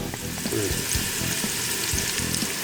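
Onions cooking in a pan for a tomato sauce crackle and sizzle steadily up close, with soft stirring knocks and scrapes mixed in and no voices.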